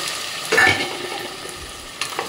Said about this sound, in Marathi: ह्यामध्ये लसूण आणि कांद्याची फोडणी दिलेली आहे। आता मी हे घालून घेणार खेकडे